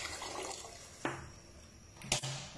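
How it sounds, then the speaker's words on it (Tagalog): Mineral water is poured into a pot for chicken soup, a steady splashing, running stream with a couple of sharper sloshes, heard alone at close range. "Lagyan natin ng tubig na sandamakmak na tubig."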